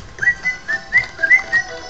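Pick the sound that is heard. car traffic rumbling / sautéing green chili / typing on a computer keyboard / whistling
whistling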